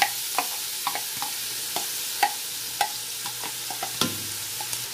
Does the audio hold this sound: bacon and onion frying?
yes